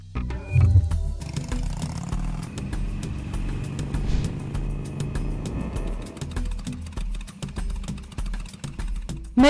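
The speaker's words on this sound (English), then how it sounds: "Lorry." A lorry engine idles nearby in a low, steady rumble, with a brief louder burst at the start and faint clicks and rattles above it.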